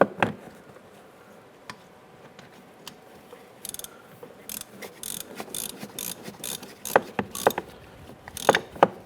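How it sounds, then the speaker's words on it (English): A ratchet wrench tightens bolts on a 2007-2012 Nissan Versa transmission while a transmission speed sensor is replaced: sparse clicks at first, then bursts of rapid ratcheting clicks growing louder and busier near the end, close up with no talk. "let's go ahead and tighten those down"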